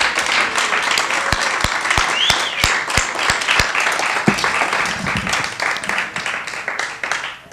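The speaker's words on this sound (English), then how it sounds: "let's give them a big round of applause" Steady applause from a crowd at a 2004 performance rally at a Chicago-area arts venue, dense continuous clapping filling the room with a few sharp individual claps standing out near the front, sustained throughout.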